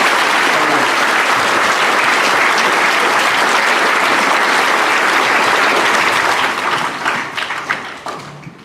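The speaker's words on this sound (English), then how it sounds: "Let's give them a big clap." An audience at a school graduation assembly gives a big, sustained round of applause that stays loud and even, then thins out into scattered claps at the end.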